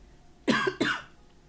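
Two quick, husky coughs close to the microphone, one right after the other, against a quiet background.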